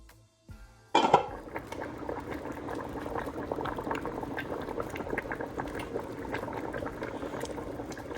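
A Jamaican Ital stew simmers in a covered pot, bubbling steadily with a dense, continuous burble after a brief clatter at the start.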